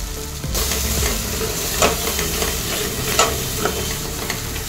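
Tomato and ground masala paste hits hot oil for a Maharashtrian bhogichi bhaji, bursting into a loud, continuous sizzle close by, with small crackles and stirring pops rising and falling.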